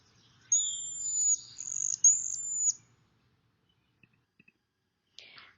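A sociable berry-eating bird gives a few thin, high whistled calls in quick succession, clear against quiet surroundings, followed by silence and a faint brief chirp near the end.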